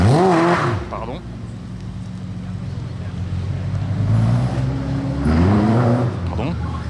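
A right-hand-drive Ferrari 575 Maranello supercar passes on a Paris street, its engine rising and falling in two swells, with people talking over it.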